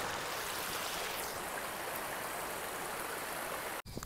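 A back-garden stream runs with a steady, close rush of water that stays even throughout, ending in a brief dropout near the end.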